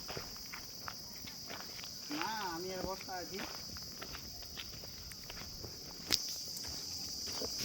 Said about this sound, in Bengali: একটা আওয়াজ শোনা যাচ্ছে, ঝিঝি পোকার।